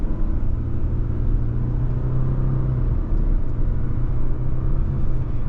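A 2024 Subaru Crosstrek Limited accelerates steadily, its engine a continuous low rumble and whir heard from inside the cabin, with a slight rise in tone over the few seconds and no talking.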